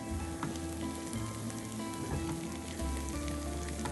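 Risotto with butter and Romano cheese is stirred in a pan, giving a steady close sizzle and soft scraping that runs the whole time with no talk.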